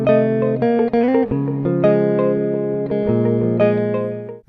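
Two layered electric guitar parts playing together in a rhythmic, chiming progression, with bright sustained chords and an added lift part, close and full with a brief cut at the end.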